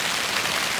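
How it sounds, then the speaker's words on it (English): Heavy rain pours steadily onto a camping tent beside a creek, a dense, continuous hiss of drops drumming close on the fabric with no pauses and no voices. "just pouring rain again"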